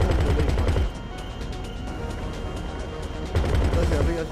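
Rapid gunfire bursts from the video game GTA 5 Online on Xbox One, sharp repeated cracks that are loud at the start and end and thinner in the middle, with people talking in Spanish over it.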